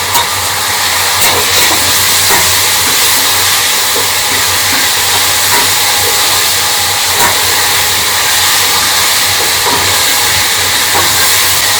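Kadai masala and cumin seeds sizzle steadily in a hot pan, a loud, continuous broadband hiss with faint crackles running through the whole stretch, with no talking.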